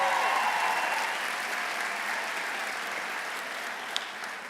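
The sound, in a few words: graduating students applauding at commencement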